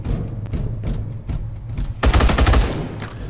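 Sustained gunfire in the Space Hulk Deathwing video game, sparse shots early then a dense rapid burst of automatic fire from about two seconds onward, loud and close with no talk.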